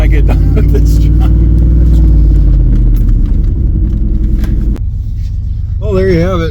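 Old OBS Chevy plow truck engine revving hard and loud up close, the pitch falling and then cutting off, followed by a person talking.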